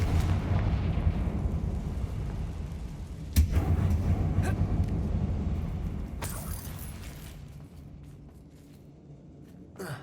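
A fiery Confringo spell blast in Hogwarts Legacy hits with a sudden explosive boom and a rolling rumble, followed by a second burst, and then the noise slowly fades.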